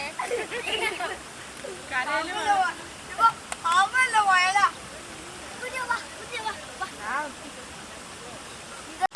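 Meenmutty waterfall in Wayanad, a steady broadband rush of falling water running the whole way through while several people talk loudly over it.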